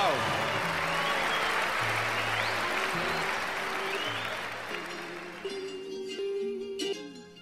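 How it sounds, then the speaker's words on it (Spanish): Part of a large audience applauds during a live event, a dense wash of clapping that gradually thins out while announcer voices and music-like tones rise over it toward the end. "Un sector del público aplaude."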